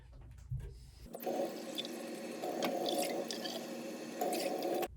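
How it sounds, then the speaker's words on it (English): Two cups of water are poured from a cup into a pan, a close, steady splashing gush that starts abruptly and runs unbroken for several seconds before stopping. "I'm gonna start by adding 2 cups of water to my pan."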